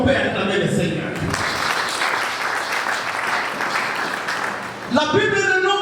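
A church congregation breaks into loud, sustained applause for about four seconds, a dense wash of clapping that fades as a preacher's voice returns through the sound system.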